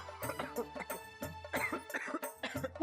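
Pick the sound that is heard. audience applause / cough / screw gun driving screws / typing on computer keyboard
cough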